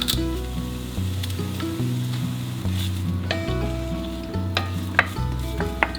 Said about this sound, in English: Fry an onion